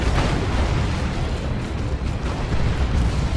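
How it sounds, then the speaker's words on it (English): A tank is struck by a melta bomb in the Dawn of War 2 video game, a dense, sustained roar of explosion and battle noise that fills the whole clip, loud and unbroken, without speech. "This tank's done some good work. Level 3. Eats a melter bomb."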